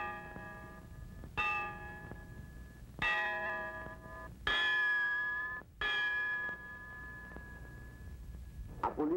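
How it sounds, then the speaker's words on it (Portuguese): A church clock bell tolls slowly and resonantly, several spaced strikes ringing out with long decaying hums between them, heard alone at moderate volume as it strikes the midnight hour. "na igreja próxima, o relógio batia as 12 badaladas da meia-noite"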